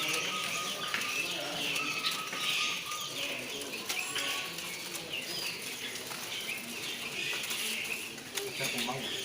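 At a bird market in Depok, West Java, a kacer mini (magpie robin) is among many caged birds, with chirps, fluttering wings and cooing mixed into a busy, continuous din while people talk nearby.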